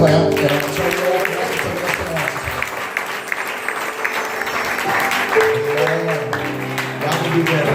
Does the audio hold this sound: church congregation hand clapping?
yes